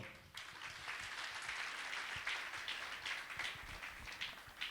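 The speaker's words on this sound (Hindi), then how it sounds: "इनके लिए दोस्तों जोरदार तालियां दोस्तों" Business event attendees applaud mentors on stage: continuous, fairly dense clapping from a crowd, heard at a low level and holding steady throughout.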